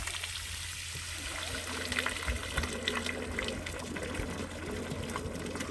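Water drains out of a camper RV tank while boondocking off-grid, making a steady, continuous gushing and splashing flow that stays constant throughout with no talking.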